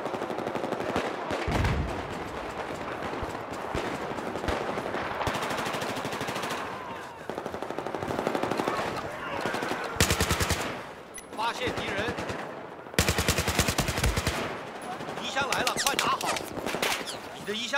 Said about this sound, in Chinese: 敌军机枪就在这里。